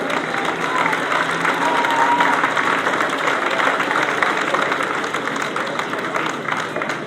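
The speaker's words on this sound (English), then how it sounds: "Give him a cheer, please." A speedway crowd at a British sidecar championship final at Belle Vue applauds and cheers race winner Rod Wilson, a steady wash of clapping and cheering sustained throughout, with no talk over it.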